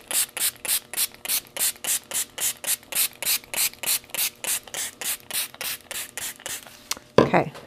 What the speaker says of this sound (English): Okay, it's just a teeny little spray bottle.